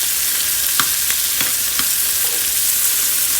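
Tomatoes cooking in a pan with garlic and onion, a loud continuous sizzle with a handful of faint clicks and taps spaced through it, close up and with no talk.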